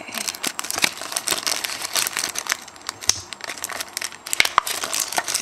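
A plastic Ziploc bag package being opened and handled, giving close, busy crinkling and crackling with sharp snaps and rustles throughout.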